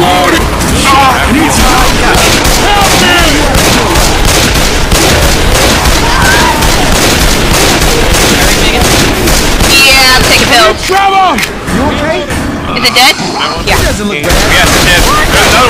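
Video game gunfire during a co-op zombie shooter session: loud, dense bursts of shots and booms fill nearly the whole stretch, with players talking excitedly over the constant battle noise.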